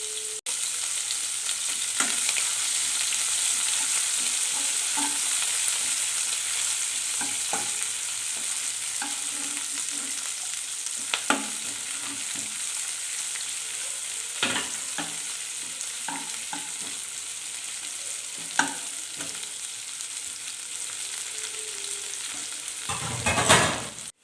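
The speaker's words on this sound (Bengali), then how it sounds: "পেঁয়াজ কুচিটা লাল লাল করে ভেজে নিতে হবে এখানে।" Chopped onion frying in a pan for a ghugni made with goat fat, a steady close sizzle throughout with occasional clicks and scrapes of stirring, no voices.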